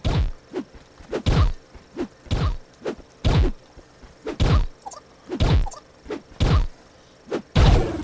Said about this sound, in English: I'm gonna bang them with my hammer until they do.